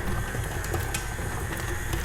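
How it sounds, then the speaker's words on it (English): A KitchenAid stand mixer beats butter with a steady, close-up whirring drone that stays even throughout. "And now we have 1 cup of butter going into our stand mixer."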